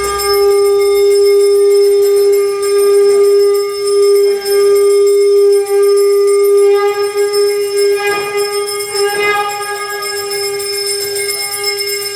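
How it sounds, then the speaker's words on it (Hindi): A hand bell (ghanta) rings continuously during a Mahashivratri Shivling puja, a loud, steady metallic ringing with sustained overtones and a few stronger strikes near the end, with no talk. "संत ध्वनि घंटां वादयेत्।"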